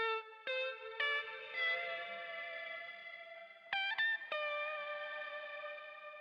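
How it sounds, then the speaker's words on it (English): Clean electric guitar notes pass through a late-1960s-style shimmer effect, sparse plucked tones that bloom into bright, sustained, reverberant tails, quiet and with no voices. "The first layer I ran through a shimmer that was really common in the late 60s."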